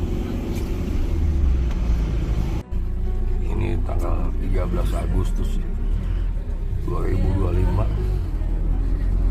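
A small bus climbs a winding mountain road from Lijiang toward Lugu Lake, its engine a steady low rumble with road noise running throughout while a person talks over it.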